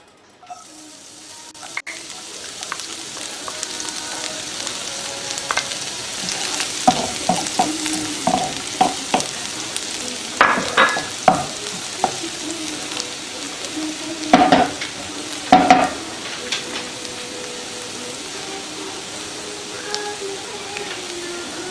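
Garlic sizzles in about a quarter cup of hot olive oil while being stirred for a tomato daal tharka, with crackling bursts and scraping stirs that build and turn louder partway through.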